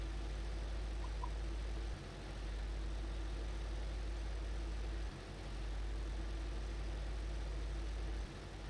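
An old tractor engine from a vintage-tractor pack in Farming Simulator idles in a low, steady drone with faint knocking, its hum dipping briefly twice, with no voices.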